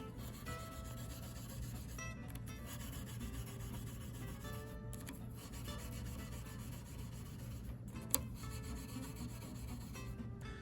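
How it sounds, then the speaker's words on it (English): Steady rubbing of 4/0 steel wool along the frets of a Baby Taylor acoustic guitar, a continuous close scrubbing rasp with a faint hum beneath and one small click near the end. "So you just use your fret guard, 4/0 steel wool."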